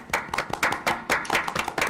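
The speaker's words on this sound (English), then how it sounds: "Let's give him a round of applause." Applause at a school board meeting for a student being honored, a small group of hands clapping steadily and fairly close for a couple of seconds, with no talking over it.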